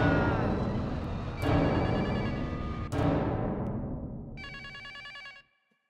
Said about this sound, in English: Someone pick up. Please pick up the phone.